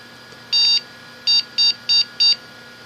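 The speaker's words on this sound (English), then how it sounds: "I'll wait for it to beep." A desktop PC beeps after being powered on: five short electronic beeps, the first longer and the next four quick and evenly spaced, loud and close over a steady fan hum.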